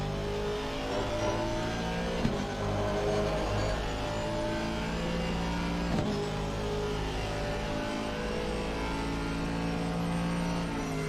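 GT3 race cars run in the video game Assetto Corsa Competizione, with a steady, loud engine drone and shifting revs from several cars close together, plus a couple of sharp transient knocks.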